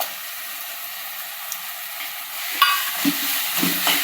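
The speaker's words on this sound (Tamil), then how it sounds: "இப்போ நம்ம இஞ்சி பூண்டு விழுது போட்டுக்கலாம்" Ginger garlic paste drops into a pan of softened tomatoes for an egg curry, giving a soft, steady sizzle with a few stirring scrapes and clinks near the end.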